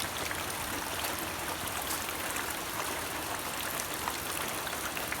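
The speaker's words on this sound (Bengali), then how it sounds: "দেখেন, বৃষ্টির পানি অভাব নাই।" Steady rain falls, a dense, even hiss of water that keeps the same level for the whole stretch with no voices over it.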